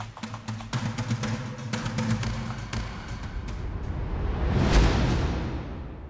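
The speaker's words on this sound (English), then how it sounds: "you're gonna hear the riser and then you're gonna hear the music stop" A riser sound effect in an Unreal Engine 5 MetaSounds music arrangement for a game: a few light taps give way to a swelling wash of noise that builds to a peak near the end, then starts to fade.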